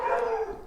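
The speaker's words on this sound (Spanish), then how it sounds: "Entonces, disculpen los perros." A dog gives a brief howling bark indoors, a single short, moderately loud call heard alone.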